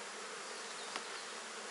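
Honey bees buzzing steadily as a dense, even hum inside an open hive while it is being split into a new colony in poor weather, continuous and close with no voices.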